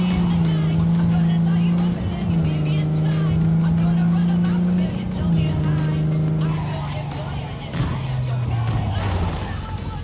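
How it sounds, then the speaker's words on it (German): A car engine in the Cyberpunk 2077 video game hums loud and steady, its pitch holding and then stepping down as the car slows, with a voice speaking over it. "Motor ist zu laut, im Gegensatz zur Musik."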